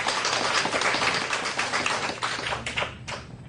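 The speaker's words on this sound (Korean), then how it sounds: "박수 한번 부탁드릴게요" Applause from a seminar audience at a product training session: a dense, continuous patter of many hands clapping, loud and close, thinning slightly at the end.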